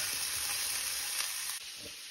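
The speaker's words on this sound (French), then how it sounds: "je vais venir ajouter mes petites courgettes pour les faire bien dégorger" Courgettes sizzle in a pan, a loud, continuous bright hiss close up with faint stirring scrapes underneath and no voices.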